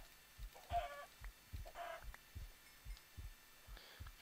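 Repeated short clucking calls from chickens in modded Minecraft, with soft low thumps between them, set against a steady background hum.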